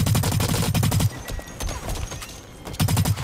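Rapid LMG bursts in Blacklight: Retribution, a fast automatic rattle up front, a pause with faint background clatter, then another loud burst at the end.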